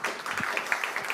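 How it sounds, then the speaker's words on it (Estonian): Audience applause at a circular-economy awards ceremony, a short burst of scattered clapping heard close and fairly loud. "Teeme ka sellele aplausi."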